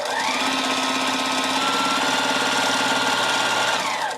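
A sewing machine stitches a log cabin quilt block in one continuous, even run of steady motor hum and rapid needle clatter, close and alone.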